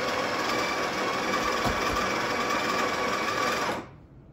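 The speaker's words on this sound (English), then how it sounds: "So I'll turn on the grinder," A Breville Barista Express BES870BSS built-in coffee grinder runs with a steady, loud mechanical whir for almost four seconds, then cuts off abruptly into near silence.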